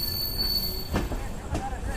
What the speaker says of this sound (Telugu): సో మన ట్రైన్ వచ్చేసి గూడూరు జంక్షన్కి అయితే రీచ్ అయింది.